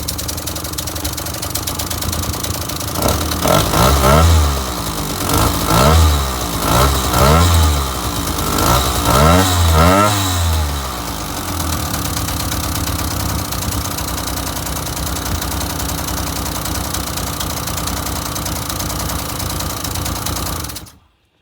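A Sachs 502/1A two-stroke engine runs on a bench test, first in a few rising revs and chugging surges, then settling into a loud, steady buzzing run before cutting off abruptly at the end.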